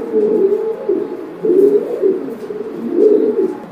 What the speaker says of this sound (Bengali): এটা হাই ফ্লায়ার কবুতর